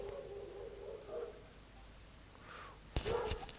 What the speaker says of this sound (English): That's dog voice.